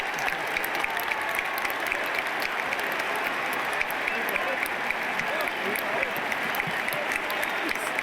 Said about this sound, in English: hear the thunder that erupted with everyone clapping and shouting